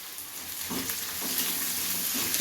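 Onions sizzling steadily in a pan while being fried for gobi manchurian, a continuous bright crackling hiss with a few soft stirring knocks, close and without talk.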